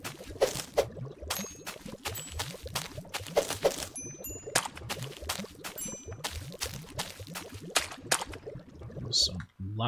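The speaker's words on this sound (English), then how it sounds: "loud ass puddle splashes" Loud puddle splashes as a game sound effect, repeated in quick irregular bursts with randomly varied pitch, close and crisp.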